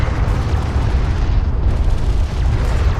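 A loud, rumbling explosion as a hostile interceptor is destroyed in the strategy game Homeworld: Deserts of Kharak, a sustained heavy roar of battle noise with no clear talk.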